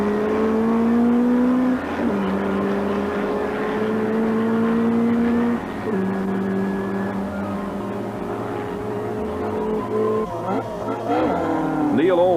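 A Nissan 240 RS rally car at the start of a special stage in the 1983 Sanyo Rally in New Zealand: a loud, close engine revs through climbing gear pulls, with tyre noise and a few faint voices underneath.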